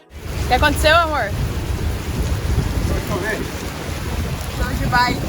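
Steady rain falling during a winter rainy spell in Recife, Brazil, a continuous broadband wash running the whole time beneath a voice speaking near the start.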